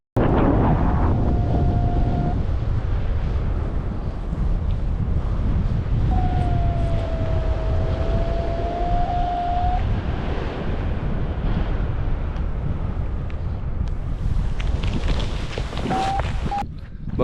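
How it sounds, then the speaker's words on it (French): Strong wind of about 20 km/h buffets the microphone during a bivouac paragliding flight in the Pyrenees, a loud, steady roar lasting throughout, with a thin whistling tone that comes and goes. "C'est fou ce que 20 km/h de vent peut venir compliquer le vol."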